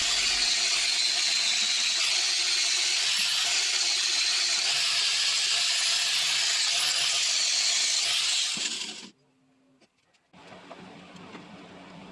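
A wire wheel strips old flaky paint and rust from the metal base parts of a 66-year-old Shopsmith. It makes a loud, continuous high-pitched whirring grind for about nine seconds, then cuts out abruptly and leaves a faint tail.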